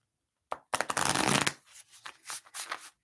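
Mermaid oracle cards being shuffled close by, a brief riffle, then a dense flurry of cards, then softer sliding and tapping shuffles.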